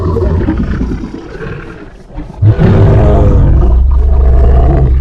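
A loud, deep dinosaur broadcast roar from Path of Titans swells, dips briefly, then returns in a long, rough, growling bellow, close and alone.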